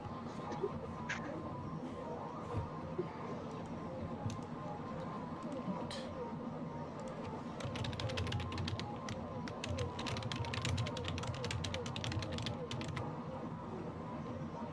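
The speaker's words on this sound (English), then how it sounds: "I hear someone typing furiously" Rapid clicking of keys on a computer keyboard, fast and continuous over a steady low background hum, growing busier toward the end.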